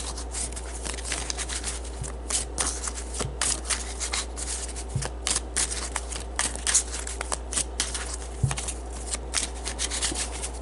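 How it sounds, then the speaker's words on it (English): Gypsy oracle cards are shuffled by hand in steady, soft riffling and rubbing strokes with occasional light taps, close up and quiet, with no talking. "So let's draw some Gypsy cards to define this"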